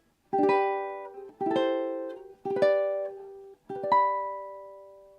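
A ukulele plays a short phrase of four strummed chords, each ringing briefly before the next, at a steady, unhurried pace with no voices.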